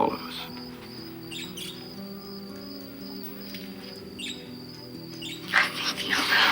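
Birds chirp outside a house in short, scattered bursts over a steady low hum, fairly distant and moderately quiet, with a louder rustle of activity near the end.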